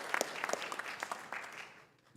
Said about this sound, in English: Give yourself a round of applause as well.